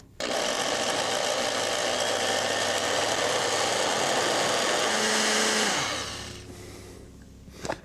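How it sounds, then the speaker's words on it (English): A blender purees roasted peppers with a loud, steady whirring drone that runs for about six seconds, then cuts off and winds down into near quiet. "These are going to blend up first and puree quite nicely."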